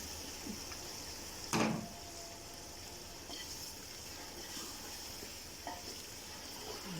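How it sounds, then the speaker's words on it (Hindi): Potatoes and mutton go into a pot for degi aloo gosht, giving a sharp splashing burst followed by a soft, steady sizzle with a few faint clinks of stirring. "आलू और गोश्त इसमें मैं एक साथ ही डालने लगी"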